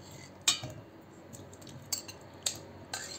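Fruit pieces and ingredients dropped into a juicer jar, producing a few sharp clinks and knocks of spoon against the jar at irregular intervals, with quieter handling noise between them.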